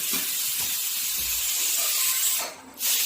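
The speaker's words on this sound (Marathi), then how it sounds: "इकडे आता आई पुऱ्या तळून घेत आहे" Puris deep-frying in hot oil at a home Ganesh festival gathering give off a loud, steady sizzling hiss that dips briefly near the end before resuming.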